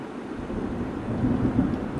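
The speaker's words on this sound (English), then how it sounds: "And there's louder thunder." Low rolling thunder during a severe thunderstorm, a deep continuous rumble that swells slightly toward the end, heard alone with no talking.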